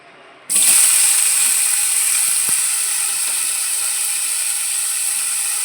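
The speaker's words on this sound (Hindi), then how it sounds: "अब चलिए जो हमने सब्जियां बॉईल करके रखी थी उसको डालेंगे।" Boiled vegetables dropped into hot ghee and oil in a pan, a sudden loud sizzle that starts abruptly and holds as a steady, bright frying hiss, close and without talk.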